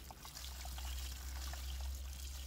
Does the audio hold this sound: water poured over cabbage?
yes